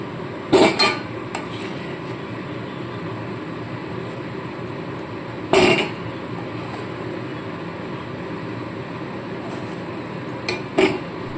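Lightly boiled taro is lifted from a cooking pot with a utensil, giving three loud, brief metallic clanks and scrapes spaced several seconds apart over a steady low background hiss.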